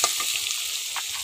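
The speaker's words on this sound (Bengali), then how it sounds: "আমি সামান্য পরিমাণ আলু ডুম ডুম করে কুটে তা এখন গরম তেলে ভেজে নেব" Diced potatoes fry in hot oil in a pan, a bright, steady sizzle with a few soft stirring scrapes over a short moment, close and fairly loud, with no voices.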